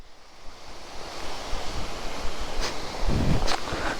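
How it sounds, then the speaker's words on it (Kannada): A waterfall at Kudremukh, running low on water, gives a steady broadband rush of falling water, with a couple of brief louder surges near the end. "ನೋಡಿ ಫಾಲ್ಸ್ ಬಂತು ನೋಡಿ, ಚೆನ್ನಾಗಿದೆ ಫಾಲ್ಸ್"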